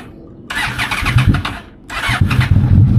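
Yamaha Royal Star motorcycle fitted with Sharkroad exhaust pipes, cold-started on a chilly day: a short cranking burst, a pause, then a second attempt catching into a rough, loud idle close by.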